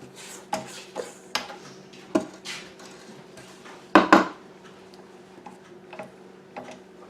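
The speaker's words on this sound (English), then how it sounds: "Scrape the bowl. You have to scrape that bowl in between." A spatula scrapes and knocks against a mixing bowl of banana cake batter, giving a handful of sharp, close ticks and clatters spaced irregularly, with a louder double knock near the middle.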